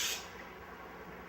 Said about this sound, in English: Spray the pan with olive oil.